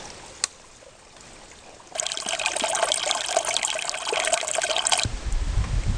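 Creek water trickling at the Slaughter Creek Trail junction on the Georgia Loop hike, a faint stream at first, then a loud, close, steady splashing flow while a bottle is topped off, cut off abruptly near the end.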